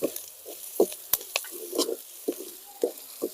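Drumstick leaves sauté in a pan for ragi adai, crackling in soft, irregular sizzles and stirring scrapes, close and fairly quiet, with no talking.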